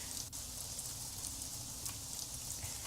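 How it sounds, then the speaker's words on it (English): Steady rain falling in the pixel-art building game Craft The World, a constant soft hiss of drops pattering on surfaces, even and unbroken throughout with no voices. "And it's raining."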